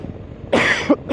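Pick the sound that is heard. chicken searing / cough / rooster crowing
cough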